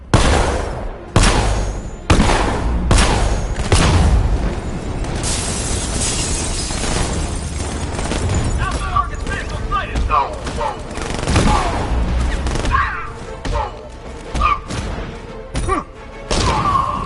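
Rapid bursts of video-game gunfire on a PS4 crack loudly and repeatedly, with a dense barrage early on that thins into scattered shots and explosions, while in-game voices talk underneath.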